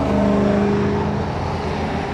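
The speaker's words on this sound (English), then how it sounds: "Can you hear those trucks?" Heavy trucks pass close by a 2022 Thor Chateau 27R Class C RV, a loud, continuous low engine rumble with broadband road noise that holds steady and eases slightly over two seconds, with no talking.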